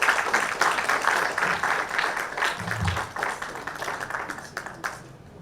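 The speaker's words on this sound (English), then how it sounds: "Let's first present this token of appreciation to Prakash Pillai with your round of applause." Audience applause at a book discussion event for a memoir launch, a dense broadband wash of clapping that holds steady for several seconds and then fades toward the end.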